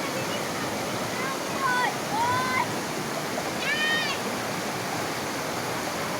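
A swift, fast-flowing river rushes with loud, steady broadband roar that fills the whole clip, while a few brief high chirps rise above the torrent near the start and middle.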